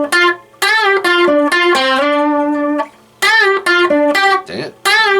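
Lead guitar phrase from a song, with a slide and a bend-and-release on the high strings, played as sustained singing notes in short bursts with brief gaps between them, loud and close, with no talking.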